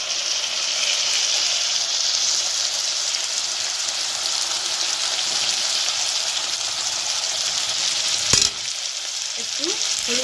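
Tomato and spices for dal makhani fry in a pan with a steady, close sizzle and hiss, and a sharp clatter of stirring near the end.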